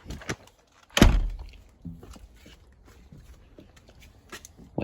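A new garage door closing, a single muffled thud followed by faint rattles and light shuffling, fairly quiet and nearby.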